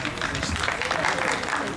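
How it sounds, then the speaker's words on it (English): An audience applauds two winners at a Chinese Family Day event, with steady, dense clapping that holds evenly throughout the short stretch and has a faint murmur of voices mixed in. "So if you can give them a round of applause"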